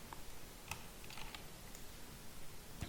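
Computer keyboard keys pressed during an After Effects tutorial, a few faint sparse clicks spread over a quiet background, heard alone without talk.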